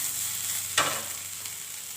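Grated coconut frying in hot oil over a medium flame gives a steady, close sizzle with one sharper crackling burst partway through.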